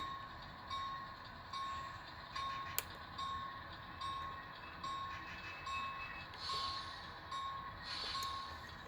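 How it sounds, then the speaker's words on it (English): Freight train on an industrial stockyard lead reversing to pick up its caboose, with a steady repeating reversing beep and low rumbling rail noise throughout, a sharp clank near the start, no talk. "we'll reverse back and get our caboose"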